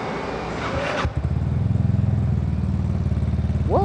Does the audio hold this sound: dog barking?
no